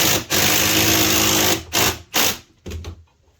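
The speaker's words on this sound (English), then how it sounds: "Line it up on my row of screws so I know they're hitting a stringer in the center, and drive them home." Power driver sinking screws into a Trex composite stair stringer outdoors, with two long, loud whirring bursts and then a few short stuttering pulses as each screw is driven home.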